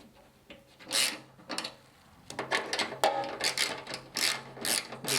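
Ratchet clicking as six new flange bolts are tightened, their threads biting into nylon locking inserts; bursts of rapid clicks separated by short pauses, close and fairly loud with no talk.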